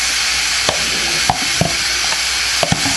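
Mixed vegetables (peas, carrots, corn, lima beans, green beans) are stirred into a Cameroon-style chicken stew in a pot, with a loud, constant bubbling hiss and several distinct knocks and scrapes of a spoon against the pot, without speech.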